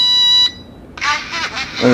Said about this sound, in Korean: 이 국산 경보기. 보시면 누르면 이렇게 작동 지금 되는 거예요.